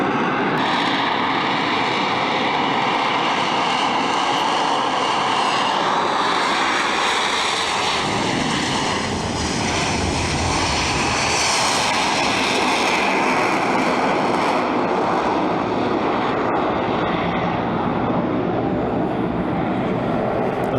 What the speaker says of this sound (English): the other thing which the Harrier has is noise in abundance. It must be one of the noisiest aircraft flying.